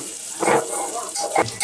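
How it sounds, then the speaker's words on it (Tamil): Onions and fenugreek frying in sesame oil give off a soft, close sizzle with brief bursts of crackling as the pan is stirred. "வெந்தயம் போட்டு வெங்காயம் வதக்குறோம்."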